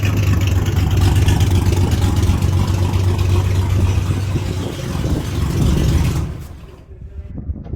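Cammy engine of a Holden 1 Tonner running loud and close, a steady lumpy idle with a rough uneven lope that holds for several seconds, then drops away sharply near the end.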